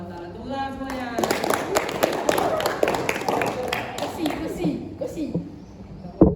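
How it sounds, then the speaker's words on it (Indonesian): Classroom group clapping together, a dense burst of applause mixed with voices and chatter, fairly loud and close, then fading out. "Tepuk tangan semuanya."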